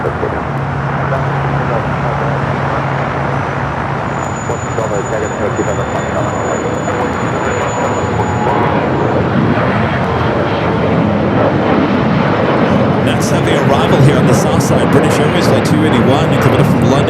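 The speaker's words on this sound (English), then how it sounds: "It's the Dreamliner heading to Tel Aviv, heading for a south side at takeoff" Boeing 787 Dreamliner taking off at LAX, bound for Tel Aviv: a loud, sustained broadband jet roar that swells slightly and holds for the whole stretch, with a faint whine early on.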